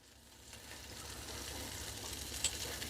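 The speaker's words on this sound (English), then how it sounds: "I'm turning them so that I can get them brown all over." Homemade meatballs sizzling in a pan as they are turned to brown, a steady close frying hiss that builds slightly, with one brief clink near the end and no talk.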